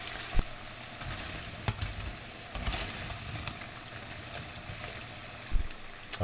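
Cauliflower florets frying in hot oil, giving a steady soft sizzle with scattered light pops and crackles, fairly quiet and with no voices.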